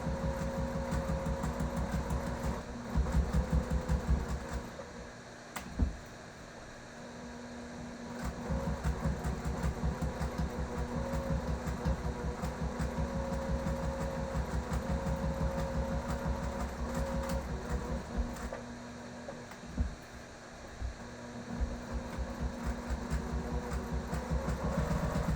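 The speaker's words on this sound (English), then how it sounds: "because I'm stitching on this very outside edge, I'm not stitching in the glue" A sewing machine stitches quilt binding along the outside edge, a steady close motor whir with fast needle clatter, running continuously with a few brief pauses and restarts.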